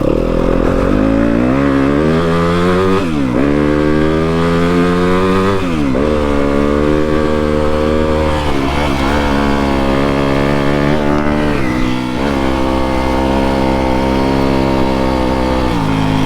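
A Yamaha WR250F dirt bike engine roars loudly and close on a trail ride, revving up and down through repeated gear changes and throttle swells with no speech.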